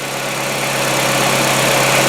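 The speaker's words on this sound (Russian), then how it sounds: "мне кажется, что гидрики стучат именно из-за того, что они сильно засратые" A Hyundai engine idles steadily close up, its hydraulic valve lifters knocking, giving a constant even drone with a faint fine ticking texture throughout and no voices.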